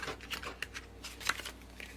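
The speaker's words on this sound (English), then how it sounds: "And shuffle the cards a little bit" Quiet riffling and soft flicks of playing cards being shuffled at close range, a brief run of light papery snaps.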